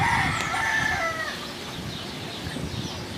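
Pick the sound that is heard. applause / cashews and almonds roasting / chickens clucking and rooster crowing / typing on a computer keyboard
chickens clucking and rooster crowing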